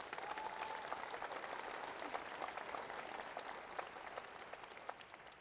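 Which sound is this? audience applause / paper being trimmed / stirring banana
audience applause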